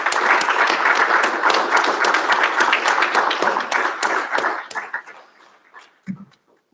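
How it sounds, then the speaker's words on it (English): Audience applause at a college graduation recognition ceremony: dense, steady clapping from a large crowd that thins out and dies away over the last two seconds. "Please join me in applauding them one more time."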